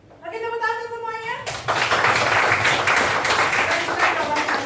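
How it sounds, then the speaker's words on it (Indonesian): Applause breaks out in a classroom as students clap for their classmates, a dense, steady burst of many hands that follows a brief spoken line and continues loud to the end. "Oke, tepuk tangan untuk semuanya."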